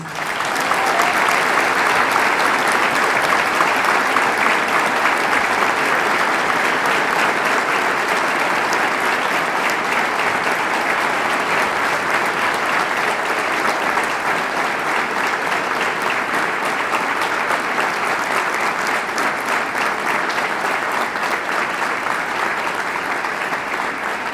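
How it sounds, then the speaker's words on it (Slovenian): An audience at a Slovenian community hall event breaks into strong, sustained applause, a dense and even clatter of many hands that continues loudly throughout. "Za vse imenovane prosim močan aplavz."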